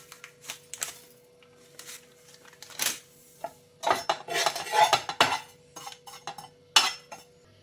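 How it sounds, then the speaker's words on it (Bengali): A spatula clinks, knocks and scrapes against a pan as cumin and chopped vegetables are stirred while frying, giving irregular metallic clatters in uneven bursts with no talking. "তো হালকা করে ভেজে নিচ্ছি"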